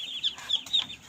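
A mother duck and her ducklings being shifted to a newly repaired pen give off soft, repeated high-pitched peeps and chirps in short bursts, close by, with no talking over them.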